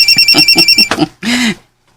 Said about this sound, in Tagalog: Ang akong cellphone. Kinsa man ning nanawag?